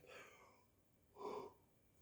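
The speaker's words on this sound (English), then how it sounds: "I had to yawn" A single drawn-out yawn with a breathy, rising exhale near the microphone, preceded by soft breathing and no talking.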